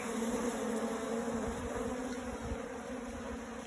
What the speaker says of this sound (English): There's a lot of action. You can see some people, I think it's funny how I call them people, some bees have pollen that they've brought back